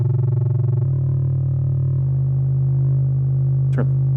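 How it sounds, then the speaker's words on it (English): Synthesized sine wave tone played loud through big subwoofers at a sound art workshop, a steady deep hum that shifts pitch in steps, with a brief chirp-like sweep near the end. "we got a sine wave and a cosine together"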